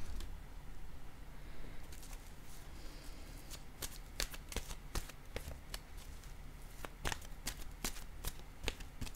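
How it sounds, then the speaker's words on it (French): Oracle cards are shuffled in the hands, giving quick crisp riffling and slapping bursts at close range over a soft steady background, with no talking. "Je vais piger une carte maintenant de mon oracle de l'âme intuitive."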